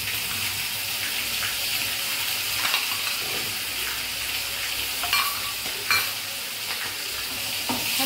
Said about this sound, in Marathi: कांदा लसूणचं पेस्ट टाकायचं याच्यामध्ये।